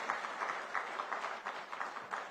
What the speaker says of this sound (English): Round of applause to her once again